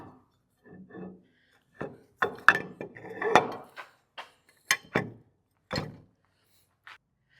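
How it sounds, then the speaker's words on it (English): A Jeep JK rear axle shaft slides back into its axle housing, with scattered metallic clunks, scrapes and knocks at irregular intervals, close and moderately loud against near silence. "Now all we got to do is put this axle shaft back in the Jeep."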